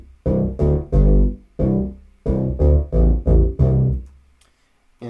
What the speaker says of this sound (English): our low sound, our kick, is this bass.